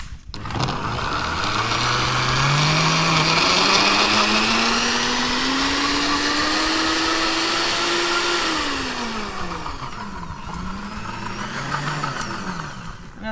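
A loud blender making a banana smoothie whirs steadily, its motor pitch rising as it spins up, then dipping and recovering as contents churn, a constant grinding roar throughout.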